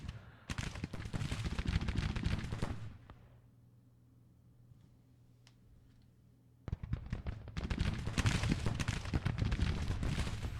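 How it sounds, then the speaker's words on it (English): Civil War rifles firing at long range in Grand Tactician: The Civil War, dense crackling volleys of many shots, pausing for a few seconds of quiet before the fire resumes just as heavily. "Give long range fire with those rifles."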